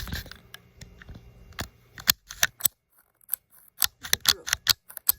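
A small toy camera being pressed, giving a run of sharp, close clicks and snaps in irregular bursts, with quiet gaps between them and no talking.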